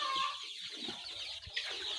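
Young chicks cluck in a farm setting, soft and fairly faint, a few short clucks over a steady background hiss.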